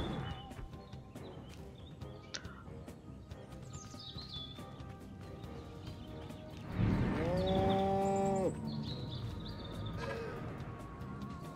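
A cow in the Destroy All Humans video game lets out one loud, drawn-out moo midway, over a steady bed of game ambience with faint bird chirps.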